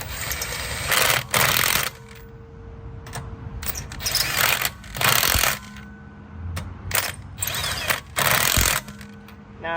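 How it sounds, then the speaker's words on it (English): Lug nuts being tightened on a Honda Accord wheel during a rear brake pad job, heard as loud bursts of metallic ratcheting and clicking with short pauses between them. "just go ahead and tighten up your lug nuts"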